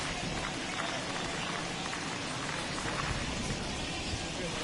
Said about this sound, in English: This has got to be the hardest rain we've seen all afternoon.